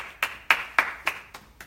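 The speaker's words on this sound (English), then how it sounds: "Y'all give her a round of applause if you're watching." About seven sharp, evenly spaced hand claps, close and fairly crisp, from one or two people responding to a request for a round of applause on an online show, with no talk.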